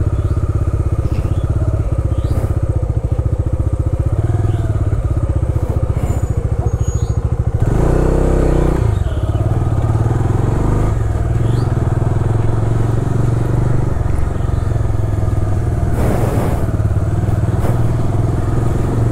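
A motorcycle rides along a road near the Behula and Attahas Shaktipeeth temples, with a steady engine drone and rattling under constant wind rumble and a few louder gusts.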